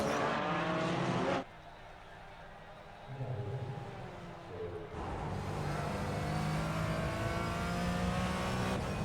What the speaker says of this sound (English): We're riding along with the Porsche of Michael Odell.